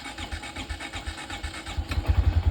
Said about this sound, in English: So let's do a cold start, see if she starts up.